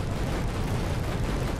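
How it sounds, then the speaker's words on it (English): A dense, rumbling roar of explosions from a turret firing on a base in Final Fantasy XV, loud and continuous throughout with no pauses. "It makes explosions happen."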